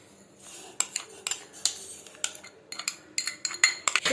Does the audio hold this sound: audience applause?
no